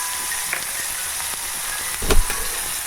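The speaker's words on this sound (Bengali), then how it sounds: "এবার আমি এটা ভাজবো।" Onion, garlic, capsicum and tomato fry in a pan over cumin-seed tempering, giving a steady broadband sizzle with a few soft stirring clicks and a louder scrape-like burst near the end.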